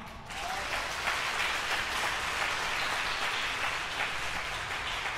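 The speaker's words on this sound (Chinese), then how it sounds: "我想你们应该给今天表演的孩子们热烈的掌声" An audience at a school performance event breaks into sustained applause for the children, a steady, full wash of clapping from many hands that starts abruptly and holds evenly throughout.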